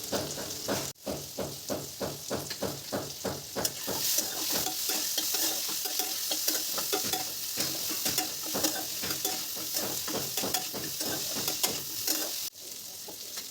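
Potato and pumpkin pieces frying in a pan with turmeric and salt, steady rhythmic spatula stirring over a loud, close, constant sizzle.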